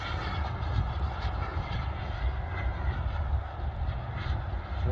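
A Carf Ultra Flash Evo model jet's turbine engine runs at about 40% throttle, giving a steady, loud, close rushing roar with a deep low rumble, constant for the whole stretch, with no voices.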